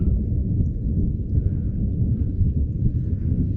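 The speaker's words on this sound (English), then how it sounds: "Yeah, the thunder done hit this area." Steady low rumble of thunder during a storm in an outdoor fishing setting, continuous and heavy, with no voices.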